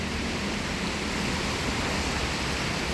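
A river flows through quiet Austrian countryside near Salzburg, a steady, dense rushing wash of water that stays constant and fairly close with no other sounds.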